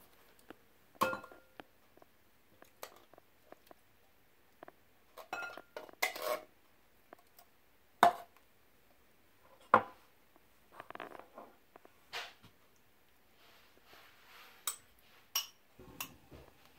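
Tomatoes, salsa and venison being mixed in a bowl for low-fat stuffed peppers, heard as scattered clinks and scrapes of a utensil against the dish, irregular and fairly faint, with no talking.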